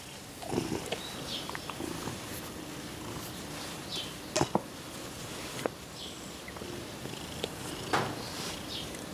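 A domestic cat purrs close by in a steady low rumble, with a few soft taps and rustles around it and no speech.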